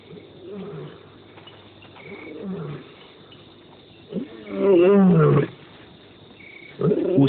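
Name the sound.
lioness roaring to call her family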